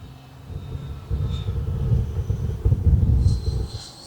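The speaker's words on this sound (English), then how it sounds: "Oh boy, what a great flying plane." An E-flite Viper 90mm electric ducted-fan RC jet passes by in flight, giving a steady low roar that swells slightly toward the end, with no talk over it.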